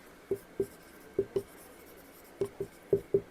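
Pen writing notes during a lesson, a series of faint close scratchy taps and short strokes in small clusters, alone in a quiet room.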